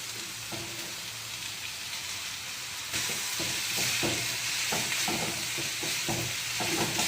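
Noodles sizzling loudly in a hot pan, a steady frying hiss that jumps louder as they are tossed, with rhythmic scraping bursts from repeated tossing and no talking.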